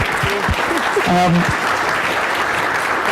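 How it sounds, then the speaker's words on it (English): Audience applause at an executive business event, a broad, steady roar of clapping from a crowd with a few voices briefly audible over it early on. "Can we get another round of applause?"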